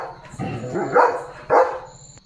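A German Shepherd gives two sharp, close barks in quick succession, preceded by a softer whining yelp.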